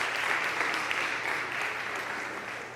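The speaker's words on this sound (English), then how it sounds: "Round of applause for our Martian." A college audience at a comedy hypnotist show claps in a dense, even round of applause that holds steady and fades slightly toward the end, with no talk over it.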